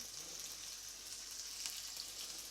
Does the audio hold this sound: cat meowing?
no